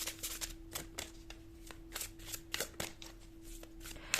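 Tarot cards riffled and flicked in quick bursts, crisp papery slaps and ruffles close by, with a steady faint hum beneath.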